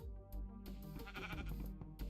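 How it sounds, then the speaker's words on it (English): A sheep bleats repeatedly in Minecraft Indev, a sustained wavering cry that stands clearly in the foreground with no one talking. "I guess the sheep spawned inside of my house, and now it's in my way."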